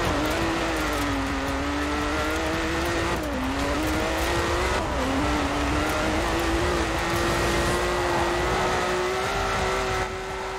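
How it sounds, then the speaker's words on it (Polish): A Ferrari Testarossa's engine roars through a winter race in Forza Horizon 4, a loud sustained drone rising and dipping with gear changes and throttle, with tyre squeal and skidding mixed in throughout. "Ferrari Testarossa"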